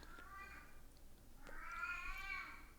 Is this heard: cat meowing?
yes